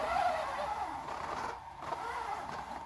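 A steady mid-pitched electric whine from the spinning wheels of an Axial SMT10 RC crawler held up on a bench, fairly quiet and continuous, dipping briefly before rising again.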